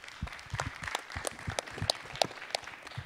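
Scattered, sparse clapping from an audience after a talk at an open-source conference panel, quiet and somewhat distant, with a handful of distinct claps rather than a full ovation.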